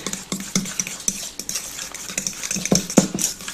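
Eggs are whisked together in a bowl for a basic carbonara, a rapid run of close metallic clinks and taps of the whisk against the bowl in a busy, uneven rhythm with no voices.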